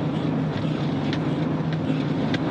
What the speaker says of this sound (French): Et là, ce n'est que le moteur, ce n'est pas un ralentisseur additionnel.